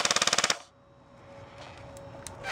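An airsoft rifle running on an 11.1 LiPo battery fires one fast full-auto burst of about ten sharp, evenly spaced shots close by. The burst stops abruptly and a faint motor whine trails off into quiet.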